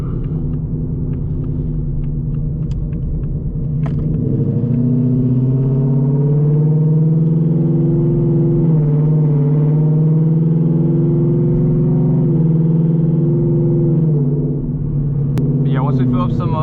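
Whipple supercharged S650 Mustang GT with long tube headers cruising on a cold morning: a loud, steady low engine rumble that rises slightly mid-clip, with talk over it.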